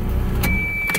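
A Toyota MR2 that had sat unused for years idles nearby, a steady low engine rumble with faint higher whine, close and continuous across the short moment.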